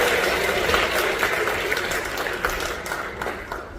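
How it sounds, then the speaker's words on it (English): A theater audience at a seniors' talent and fashion show claps together in a dense, fairly loud burst of applause that gradually thins out over a few seconds. "I think you could give her another round of applause."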